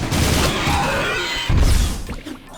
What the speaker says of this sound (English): just pretty much unload an entire clip into these guys whenever you can